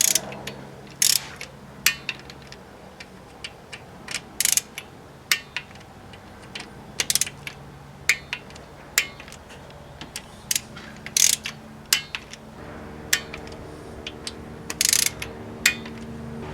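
A ratchet tightens the bolts of a VW/Audi camshaft chain tensioner: sharp, close clicking bursts come in repeated short strokes with brief pauses between, over a quiet low hum.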